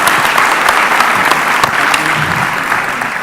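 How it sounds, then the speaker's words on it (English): A conference audience gives a big round of applause, loud and close, with dense crisp clapping holding steady and tapering slightly toward the end. "Would you please give a big round of applause for all of these people?"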